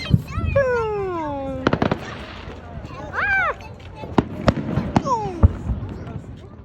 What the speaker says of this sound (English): In this recording, you can hear the big booming fireworks